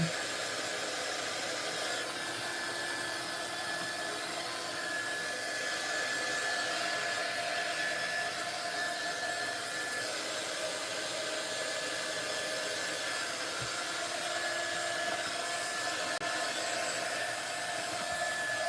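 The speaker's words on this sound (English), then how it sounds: "with a little bit of the heat tool, oh, that blue is absolutely stunning" A heat tool blows steadily while drying paste on a scrapbooking layout, a constant whirring hiss that holds at an even level, close and continuous throughout.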